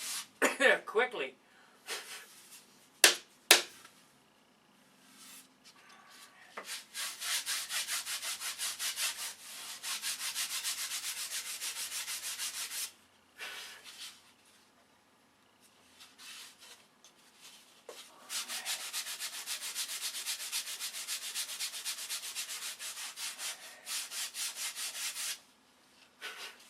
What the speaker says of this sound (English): You could sand a big hole in it quickly.